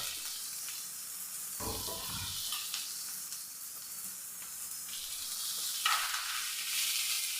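Ginger, two onions and green chillies sautéing in a pan with garam masala, giving a steady, close, hissing sizzle that swells and settles as they are stirred; no one speaks.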